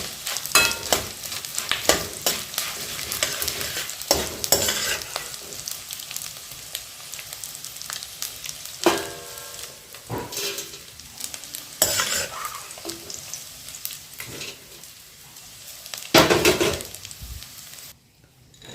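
Edible gum frying and puffing in hot ghee, a continuous crackling sizzle broken by repeated bursts of vigorous stirring and scraping in the pan, close up with no voices.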